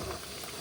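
Tempeh frying in a pan at a mountain camp on Mount Sumbing, a steady dense sizzle filling the short moment with no voices over it.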